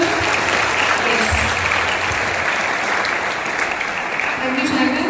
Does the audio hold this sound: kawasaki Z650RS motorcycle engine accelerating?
no